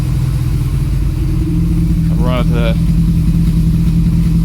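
A 1968 Austin 1100 engine runs in a garage on its first start after more than three months and some mechanical work, giving a loud, steady, close rumble throughout while someone briefly speaks over it.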